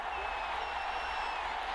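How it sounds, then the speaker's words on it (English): Stadium crowd at a college football game in a dome, a dense continuous roar of cheering and noise, steady and loud throughout the short stretch. "The crowd here in the Dome making things difficult."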